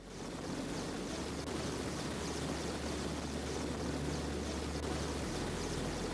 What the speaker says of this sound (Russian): каким образом тут оказался вертолет